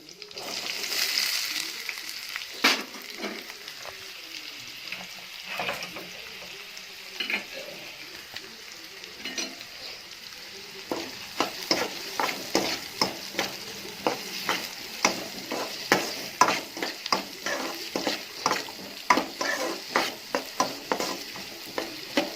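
Chopped onion and cumin frying in a pan for a brinjal dish, a steady sizzle under repeated sharp scraping and stirring clicks that grow denser and louder in the second half, with no talking.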